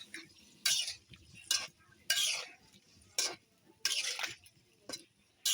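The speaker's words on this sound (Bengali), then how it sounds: "এখন আমি নেড়ে দিব।" Boiled papaya being stirred into a fish curry in a pot, heard as separate bursts of scraping and clinking from a spoon against the pot, spaced by quiet gaps, close and moderately loud.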